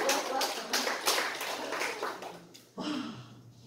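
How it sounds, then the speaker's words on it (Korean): A lecture audience claps for a few seconds, scattered hand claps that thin out and fade, with a voice coming in near the end. "이럴 때는 박수 한번 보내주세요."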